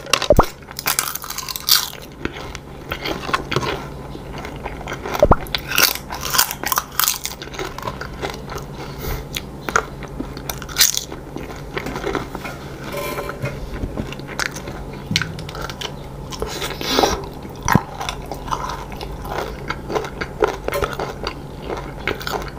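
Close-miked mukbang chewing of crunchy kaffir lime leaves, with continuous crisp bites and crunching mastication throughout and no speech.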